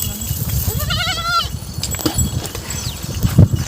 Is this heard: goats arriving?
yes